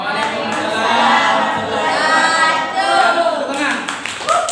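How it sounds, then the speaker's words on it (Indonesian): Classroom of children applauding after a student presentation in an Indonesian school lesson, a steady patter of many small hands clapping close by for several seconds, with excited voices mixed in. "Tepuk tangan."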